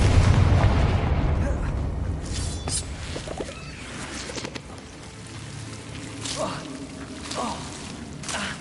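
Fiery spell blasts from the Confringo curse in Hogwarts Legacy, a dense rumbling burst at the start with smaller crackling pops and bangs afterwards, loud and close over steady game noise.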